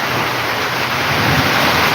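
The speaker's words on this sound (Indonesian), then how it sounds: "Kita berteduh sejenak menunggu hujan reda di ladang jagung kita." Heavy rain pours steadily over a corn field, a dense, loud, unbroken hiss with no voices.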